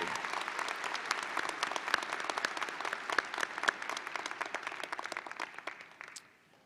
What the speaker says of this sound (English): Let's give all of the marshals a round of applause for their help and participation today.